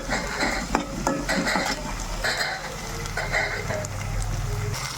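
Ginger-garlic paste being stirred and fried in a pan, with a steady soft sizzle under repeated scraping and clinking of a spoon against metal, fairly close and moderate in level.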